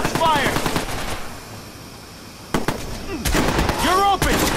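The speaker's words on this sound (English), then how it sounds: "Shots fired!" Watch Dogs video game gunfire: loud bursts of rapid shots with a short lull in the middle, then more firing, mixed with shouting voices and other game effects.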